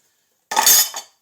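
A single brief clatter of cutlery and plates knocking together while washing up two plates and a salad bowl, close and bright, lasting about half a second before cutting off.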